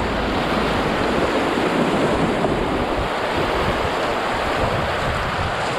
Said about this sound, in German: Paddeln.